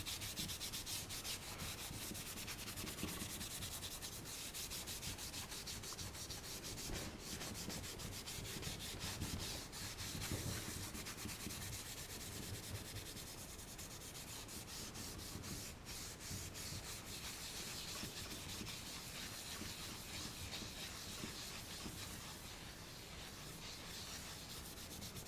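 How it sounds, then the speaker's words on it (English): Continuous scrubbing of metal with a maroon Scotch-Brite abrasive pad, a steady rasping rub with quick back-and-forth strokes, close and fairly quiet, with no talking. "I'm going to have to use some of the maroon Scotch-Brite because it's not getting all the way down"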